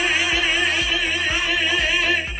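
A DJ transformer effect rhythmically chopping a playing track, the music cutting in and out in a fast, regular stutter with steady low thumps, loud and continuous, with no talking.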